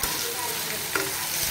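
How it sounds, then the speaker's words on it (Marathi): Spices and salt are stirred into a sizzling tempering for a French bean bhaji, giving a brief, close crackle of frying oil with a light scrape partway through. "ते पूर्ण साहित्य आपण याला मिक्स करून घेणार आहोत, म्हणजे मसाला फोडणीला मिक्स करून घेणार"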